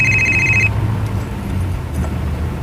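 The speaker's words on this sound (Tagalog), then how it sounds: "Si Monique kini nanawag" A phone rings with an incoming call, a bright electronic trill lasting under a second over a low rumbling background hum, followed by faint indistinct noise.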